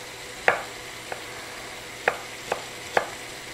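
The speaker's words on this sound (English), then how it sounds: "So with the onion, I'm just going to slice it very thin." A knife slices thinly through an onion on a cutting board, about five crisp chops landing at uneven intervals, the blade's knock clear and close against a quiet kitchen background.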